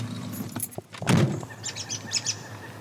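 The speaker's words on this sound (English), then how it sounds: "big flock of robins in one of the old cottonwoods close to the road" A flock of migrating robins in old cottonwoods beside a road, along with a pileated woodpecker, heard as scattered faint chirps and calls from a distance, with a brief rustle or clunk nearby.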